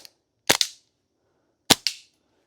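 A TP22 pistol fitted with a red dot sight is fired outdoors, two sharp close double shots about a second apart, each pair of cracks ringing out briefly in otherwise quiet surroundings.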